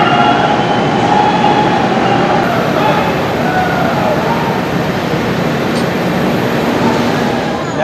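A passenger train runs through a tunnel just before Bhairabi station on the Sairang to Kolkata route, a loud continuous rumbling roar heard from inside the carriage for several seconds.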